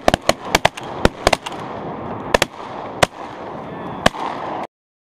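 Shotgun blasts during a duck hunt on Reelfoot Lake, Tennessee: a rapid volley of about a dozen sharp, loud reports, some in quick pairs, ringing out over a steady outdoor background before cutting off.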